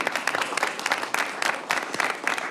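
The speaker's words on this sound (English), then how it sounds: "Let's give them a round of applause." Applause from a meeting audience at a board of directors workshop, a dense, moderately loud patter of clapping that swells and dips in waves over a couple of seconds.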